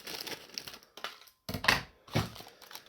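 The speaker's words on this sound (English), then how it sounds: "I gotta get some scissors here. Let's see. Just open it up." Scissors cut open a Christmas Funfetti mix packet, giving a few quiet crinkling snips and rustles of the foil-like paper, close and faint with short pauses between.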